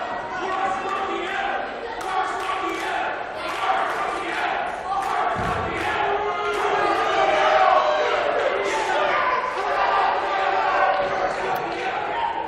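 Wrestling crowd at an indoor independent show jeering and chanting, a steady dense roar of many voices with swelling shouts and a few claps and thuds, continuous throughout.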